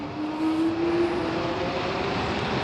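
An Apollo Phantom electric scooter accelerating at full throttle gives off a steady, loud electric whine with a rising tonal hum and constant wind and road rush, continuous and close throughout.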